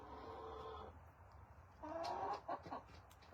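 Chickens in a coop on a cold winter day cluck and make drawn-out squawking calls, close by, in two separate bursts with a short quiet gap between them.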